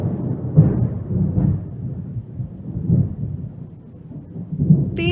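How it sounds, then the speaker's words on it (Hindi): A thunder and strong wind sound effect for a narrated moral folk tale forms a steady low rumbling roar with rolling swells, continuous and fairly loud, with no voices. "तेज हवा चलती है, बिजली कड़कती है"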